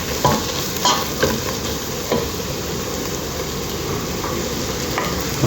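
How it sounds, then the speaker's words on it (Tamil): Green chillies sauté for mutton biryani, a close, loud sizzle with repeated scraping stirs of a spoon in the pan, no talking. "பச்சை மிளகா போடணும் நல்லா போடணும் அப்புறமா நல்லா வதக்கிட்டோம்"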